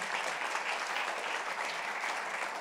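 A church congregation applauds loudly during a sermon, a dense steady wash of many hands clapping that holds evenly throughout with no voices standing out.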